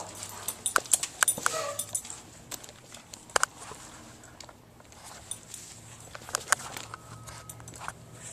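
A dog whimpers and lets out short yips in bursts, with pattering sounds in between, mid-distance and fairly quiet.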